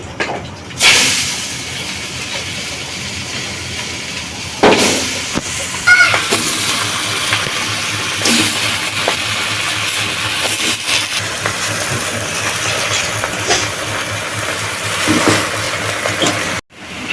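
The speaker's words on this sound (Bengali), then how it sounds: "এই যে আমি কচুটা ভাপ দিতেছি সেদ্ধ হইতেছে" Taro (kochu) steams in a pot in a village kitchen, giving a loud, continuous close-up hiss that runs almost unbroken, with a few brief thumps and clatters.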